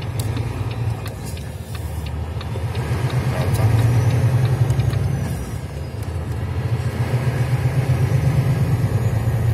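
A 2011 Volvo FH12 truck engine with a gearbox fault rumbles low and close, swelling into a revving surge midway before settling back to a steady idle-like drone.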